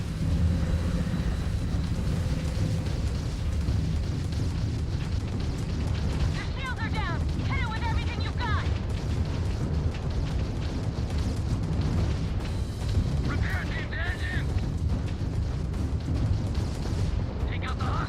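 Spaceship weapons fire and explode in Starfield, a steady dense roar of booms and blasts running the whole time, with music and voices mixed in.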